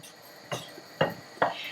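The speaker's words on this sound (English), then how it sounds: "as I move these and touch them with my spoon, they're very soft" A spoon moves soft, fatty, bacon-like seasoned meat around a frying pan, giving three distinct scraping clinks of metal on the pan at a steady pace over a quiet sizzle.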